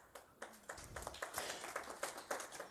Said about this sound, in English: That got about a third of the audience's applause